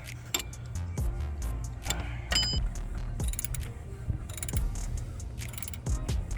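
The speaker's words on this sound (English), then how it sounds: "there's a bolt in there that we're gonna loosen up" A ratchet wrench loosens the idler pulley bolt on a 2001 Chevrolet Silverado 1500, with rapid metallic clicks in irregular bursts and sharp tool clanks close by, and no talk.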